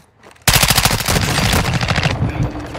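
Sustained automatic gunfire in the DMZ video game, a loud rapid burst of machine-gun shots that bursts in after a brief quiet and keeps rattling for over two seconds before easing off.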